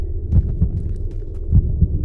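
A low, throbbing heartbeat pulse plays in the horror video game Silence Channel 2, with several paired muffled thumps in a steady rhythm over a dark ambient hum, alone with no talk.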